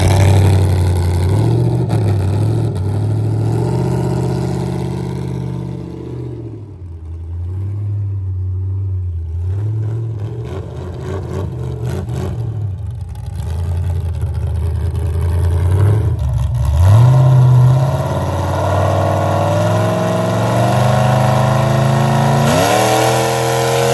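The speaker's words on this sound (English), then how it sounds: "So we're gonna go take it out and we'll launch this one, see what it does." A Cummins diesel burnout truck launches with a loud, continuous engine roar that revs and surges, dips briefly mid-run, then climbs again with rising pitch, close up and with no talk.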